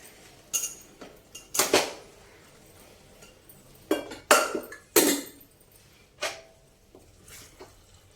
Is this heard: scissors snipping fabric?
no